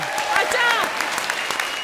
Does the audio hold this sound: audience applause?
yes